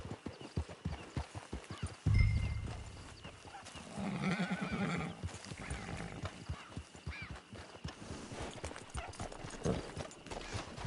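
Steady clip-clop of hooves trotting close by in Red Dead Redemption, with a horse's whinny and snorts rising over the rhythm.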